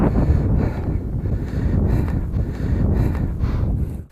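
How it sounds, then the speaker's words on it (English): Gusty wind buffets the microphone at an RC model flying field during an F16 jet's maiden flight, a low, rumbling roar that surges and eases for several seconds before cutting off. "way too windy for it"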